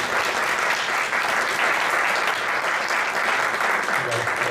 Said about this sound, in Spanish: vamos a darles un aplauso para darle la bienvenida al Dr.